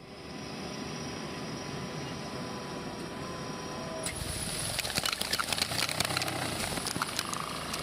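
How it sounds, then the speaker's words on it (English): A tractor works an almond orchard, its engine droning steadily at moderate distance, then a harsher rattling, clattering mechanical noise joins partway through as the harvesting gets under way. "Now, a tractor does the job."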